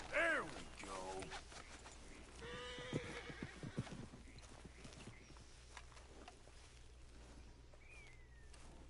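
Horses in the Red Dead video game give a loud whinny, followed by hoof clops, creaking tack and soft snorts, gradually settling into quieter ambience.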